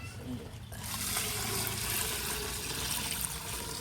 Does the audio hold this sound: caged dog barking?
no